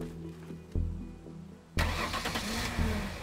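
A car engine in the video game Teardown cranks and catches twice, each start an abrupt surge into a rough, close rumble that settles into a steady idle.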